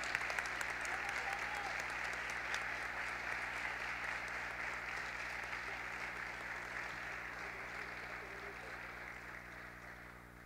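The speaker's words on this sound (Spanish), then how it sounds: "Y le brindamos un fuerte aplauso a Micaela." Graduation audience applause at a school ceremony fills the whole stretch, a dense steady wash of clapping at moderate distance that slowly thins toward the end, with faint voices mixed in.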